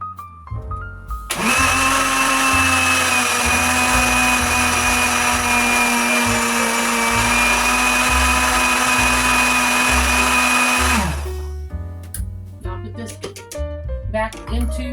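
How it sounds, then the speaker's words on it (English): A kitchen blender purees cooked cherries for homemade pop tart filling, a loud steady high-pitched motor whine running for about ten seconds, then stopping, followed by clattering and handling noises. "So put this down here and blend it."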